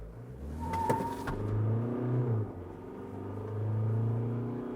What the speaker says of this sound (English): we are going to accelerate here from 0 kilometers per hour